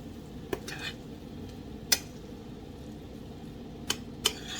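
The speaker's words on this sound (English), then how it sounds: "And now mixing everything together." Stirring coconut through a colorful one-pot vegan dish, with a few sharp utensil clinks against the pot spaced irregularly over a soft, steady background hiss; no talking.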